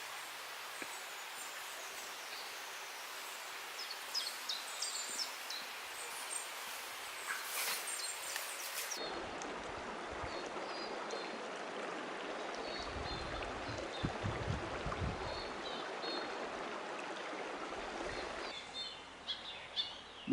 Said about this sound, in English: listening to the birds and the babbling of this gin-clear little stream